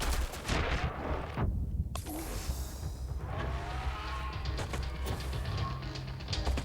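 Repeated blasts and gunfire-like bursts burst right beside the player's character in the space game Starfield, dense and loud throughout, with a short muffled dip near the start and no talk over it.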